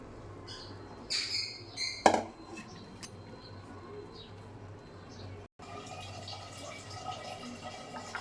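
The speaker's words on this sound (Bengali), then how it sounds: "এখন এটাকে একটা ছাঁকনির সাহায্যে ছেঁকে নিতে হবে।" Homemade ghee strained through a metal sieve to remove the milk-solid residue: a few sharp metallic clinks and scrapes of utensils, clustered in the first couple of seconds, then quiet background.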